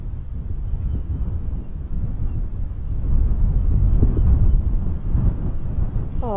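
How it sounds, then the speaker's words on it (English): Strong wind rushes across the microphone during a sunrise safari drive, a steady low rumble that swells in the middle, with a brief faint tonal call near the end. "It is incredibly windy."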